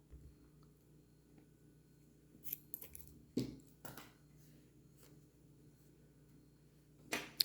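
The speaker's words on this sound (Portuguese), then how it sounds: "Vou alongar esse fio e vou cortar." Scissors cutting a strand of knitted-fabric yarn while finishing a crochet bag, a few soft, quick snips and clicks spread out against near silence.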